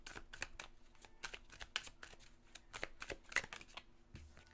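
Oracle cards being shuffled for a five-card spread, a quick run of crisp riffling snaps and papery flutters, close and clear with short pauses between bursts.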